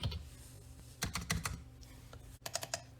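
Bursts of quick key taps on a computer keyboard arrive in short clusters with gaps between them, close and fairly quiet, and no one speaks.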